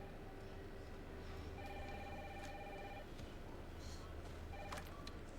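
A telephone rings in a video game trailer, with repeated electronic ring tones and steady hum throughout, under a dense layered game soundtrack.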